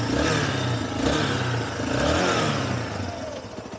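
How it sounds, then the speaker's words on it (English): A 2007 Yamaha Raptor 350 ATV engine revs up and down close by, a loud, throaty rise and fall of throttle with a slight mechanical clatter. "Nice and good throttle response, no bogging or anything like that."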